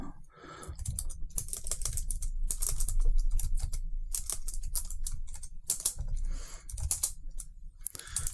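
Typing on a computer keyboard, quick irregular bursts of crisp close key clicks with brief pauses between words, no speech.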